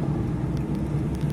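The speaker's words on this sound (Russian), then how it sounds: "разгоняй автомобиль" A car accelerates on city streets during a driving lesson, a steady, moderately loud engine hum with rising road noise and faint tonal whine, close inside the cabin, no voices.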